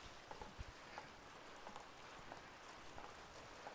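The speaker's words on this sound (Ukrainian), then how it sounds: "дощ." Rain falls steadily with a soft hiss, scattered drops tapping nearby on a surface throughout.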